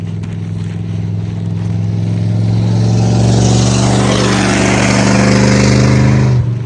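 A large truck rolls past on a roadside near a trail, its deep engine drone swelling loud and close, then cutting off sharply as it goes by, with broadband road roar throughout.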